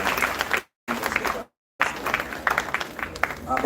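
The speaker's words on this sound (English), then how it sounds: "give Mr. Wellington another round of applause for his excellent service" Bursts of audience clapping at a high school graduation ceremony, interrupted twice by abrupt dropouts of total silence, with dense clapping resuming each time.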